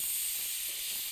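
A steady, close hiss of steam escaping under pressure from a pressure cooker whistle while chole cooks, continuous and fairly loud throughout.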